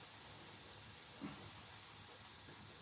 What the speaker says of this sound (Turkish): Güğüm de orada kaynadı. Evet. Güğüm gıbır gıbır ediyor vallahi.